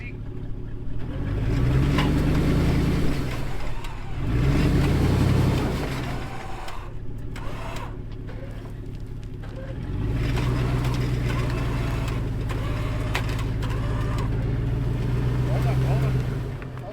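Four-wheel drive vehicle engine during a mountain recovery, a low rumbling engine that swells in revs several times and then settles, loud and near, with people talking over it.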